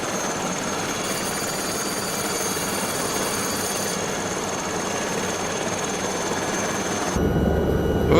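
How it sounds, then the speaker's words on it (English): A helicopter in an Alpine mountain-rescue flight simulator gives off a steady, dense rotor and turbine roar with a faint high whine, growing louder and heavier near the end. "that's the helicopter"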